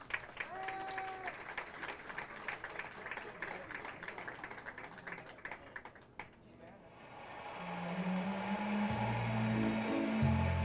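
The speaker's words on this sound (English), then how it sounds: "let's have a nice round of applause from New York City" A pageant audience gives a round of applause to a contestant in a talent segment, steady clapping for several seconds that fades out as a low rumbling and music-like tones take over.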